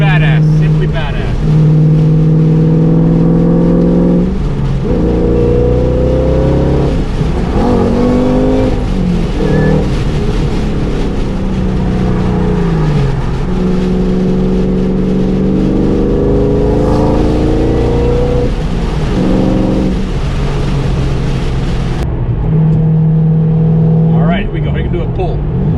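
A 2013 Shelby GT500 roars loudly up through second gear, its engine note climbing in pitch again and again in a continuous, aggressive wail heard from inside the car.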